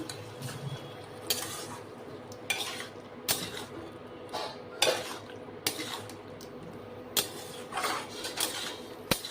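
A spoon stirs potato, ridge gourd and poppy seed paste in a pan, giving repeated clinking, scraping strokes at an irregular rhythm over a faint sizzle, close by, with no talk.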